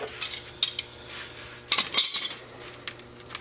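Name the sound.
13mm wrench being handled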